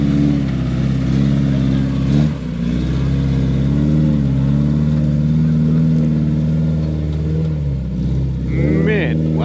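An off-road buggy's engine droning steadily while driving down a trail, loud and close with a brief dip and rev near the end, and people talking over it.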